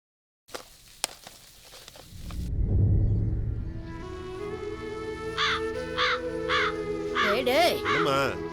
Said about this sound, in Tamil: வீணாக்கலமா, காக்காய்க்கு போட்டுட்டு இருக்கா